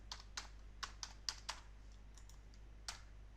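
Keys tapped on a computer keyboard while entering a Linux wget download command, about eight quiet, irregular clicks over a low steady hum, no talking.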